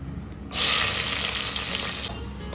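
Whole spices and a bay leaf go into hot oil for pulao, setting off a sudden loud hiss that holds steady for about a second and a half, then cuts off.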